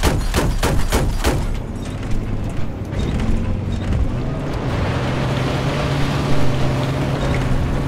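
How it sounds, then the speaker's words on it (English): An enemy boat approaches on Lancang Dam in Battlefield 4: a steady, fairly loud motor drone over water and wind, following a few sharp bursts at the start. "Oh yeah, enemy boat's coming."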